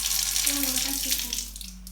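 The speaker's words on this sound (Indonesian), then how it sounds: "mematikan keran air dan menggunakan siku" A tap runs water into a sink with a steady, hissing splash for about two seconds, then tapers off as the faucet is turned off by elbow after handwashing.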